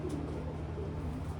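A racing pigeon hen coos softly in a loft, a faint low murmur with some background noise and no speech.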